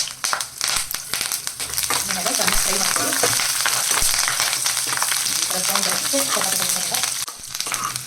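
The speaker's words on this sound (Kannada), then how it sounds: "ನೋಡಿ ಈ ಥರ ಸೌಂಡ್ ಬರುತ್ತೆ ಚಟಪಟ ಚಟಪಟ ಅಂತ ಬೆಳ್ಳುಳ್ಳಿ ಕೂಡ ಈ ಥರ ಇದಾಗಿದೆ ನೋಡಿ ಎಣ್ಣೆಯಲ್ಲಿ ರೋಸ್ಟ್ ಆಗಿದೆ" Garlic cloves, dried red chillies and curry leaves roasting in hot oil for a tomato pickle, giving a steady loud crackle and sizzle with bursts of sputtering throughout, joined by scattered stirring scrapes.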